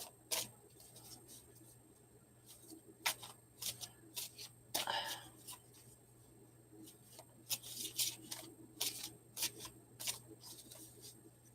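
Tarot cards shuffled by hand at close range, bursts of riffling and soft rubbing in uneven clusters with pauses between, fairly quiet.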